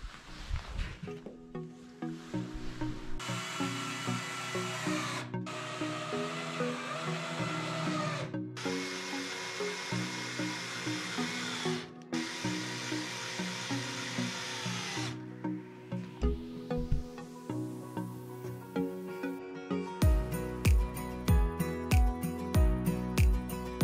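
Screws driven into wood with a power driver while building storage drawers for a Dacia Dokker van: repeated whirring bursts of a few seconds each, close and fairly loud, with a faster run of short pulses at the end.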